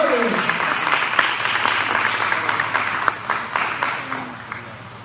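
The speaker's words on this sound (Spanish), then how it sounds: "Dale un fuerte aplauso, alábale." A church congregation applauds in a steady, moderately loud burst of clapping. A faint voice can be heard beneath it.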